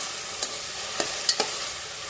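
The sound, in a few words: tomatoes being sautéed on low flame for chicken pulao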